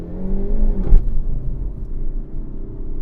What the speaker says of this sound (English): the sound of the exhaust just makes this thing so much fun.